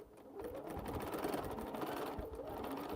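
A sewing machine stitches a quilt in a steady, fast whirring run, quiet and close, with no talking.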